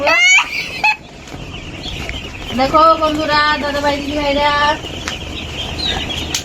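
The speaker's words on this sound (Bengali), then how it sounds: "আমাদের মুরগির বাচ্চা চলে এসেছে" High peeps of poultry chicks and clucking chickens sound nearby, with a person speaking over them midway.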